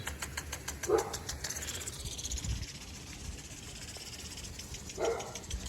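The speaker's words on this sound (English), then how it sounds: "Our neighbors have really obnoxious watchdogs, so that's what that obnoxious scratchy noise is." Two harsh, scratchy watchdog barks a few seconds apart, fairly distant, over a quiet outdoor background with faint insect buzz.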